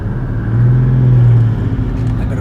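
A deep V8 truck engine rumble swells as it revs briefly, a low steady drone heard from inside the cab, then settles back.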